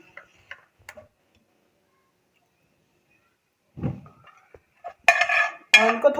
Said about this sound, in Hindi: चूल्हे को हम ऑन कर लेते हैं।